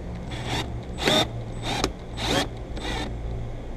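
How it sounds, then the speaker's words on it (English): A power drill works on a 2017 Porsche Macan, with five short bursts of whirring spaced about half a second apart, each rising and cutting off, fairly close with a low background hum between them. "Now my drill is working, but some spots they're gonna stop."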